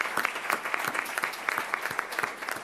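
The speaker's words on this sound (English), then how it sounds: "Let's give them a round of applause, absolutely." A school board meeting audience gives a brief round of applause for improved graduation rates, steady moderate clapping from a modest crowd lasting a few seconds.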